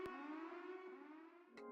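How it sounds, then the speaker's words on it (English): A siren wails in a video game, a faint sustained electronic tone with harmonic layers, lasting the whole moment and broken by a couple of short clicks. "They got like sirens."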